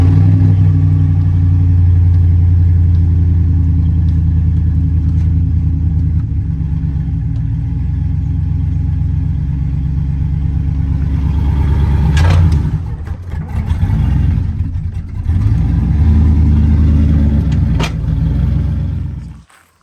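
A Chevy Silverado pickup with a broken pinion gear runs loudly nearby with a deep, throbbing rumble, dipping and surging briefly before cutting off at the end.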